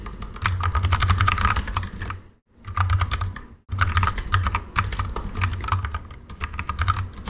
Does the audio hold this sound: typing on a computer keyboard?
yes